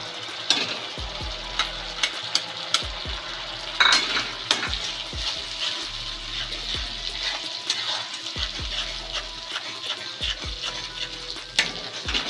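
Ground tomato paste sizzles and fries in a generous amount of oil in a pan, a steady loud hiss with occasional scraping stirs and clinks of a utensil against the metal.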